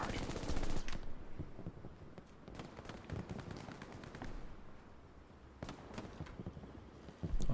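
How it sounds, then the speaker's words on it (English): Tank-mounted machine gun fire in the Hell Let Loose World War II shooter on the Utah Beach map, with repeated bursts and scattered gunshots over steady battlefield din across the whole stretch. "gets gunned down by the tank's MG"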